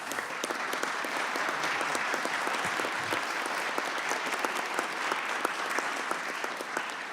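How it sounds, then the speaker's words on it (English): Steady applause from an audience in a hearing room, many hands clapping together at an even level throughout, dense and continuous without voices. "ask if maybe the room could give the two of you a round of applause"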